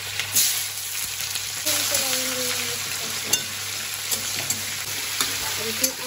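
Potatoes and vegetables fry in a home kitchen pan, a steady close sizzle broken by a few sharp clinks of a utensil against the pan, with a faint tonal hum in the background.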